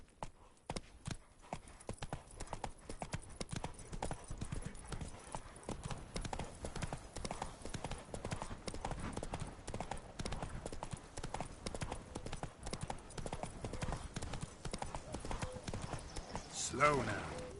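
Horse hooves clip-clopping steadily in a PS4 video game, a continuous rapid rhythm of close hoofbeats with a brief louder burst near the end, plus someone speaking over it.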